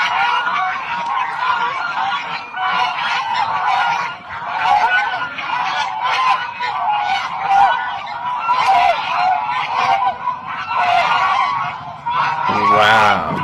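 A large flock of ducks or geese honks continuously in dense, overlapping calls, loud and close, with a brief burst of other sound near the end.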